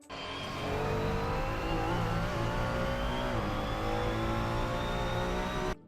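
A Ferrari 296 GT3 race car in Assetto Corsa at full throttle on the Red Bull Ring, its engine climbing steadily in a loud, continuous rising whine with one brief gear-change dip midway, close and alone.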